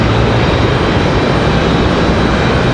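A Copa airliner bound for Panama City taxis out for departure at Raleigh-Durham International Airport, its engines giving a steady, loud, broadband roar that holds evenly throughout.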